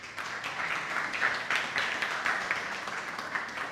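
Audience applause for a director of participation just introduced at an innovation lab event in Gran Canaria: steady, dense clapping from a crowd that fills the whole moment without a break, with no one speaking over it.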